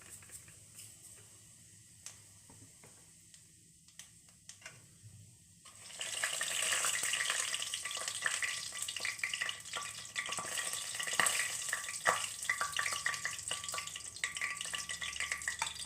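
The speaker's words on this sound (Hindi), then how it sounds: "तेल हमारा गर्म हो चुका है। अब हम इसमें जीरा डालेंगे, सौंफ डालेंगे" Cumin and coarse fennel seeds drop into hot oil for an aromatic dish of Indian gooseberry and green chilli. After a quiet start, a dense, steady sizzle bursts in and carries on loudly to the end, with no voices.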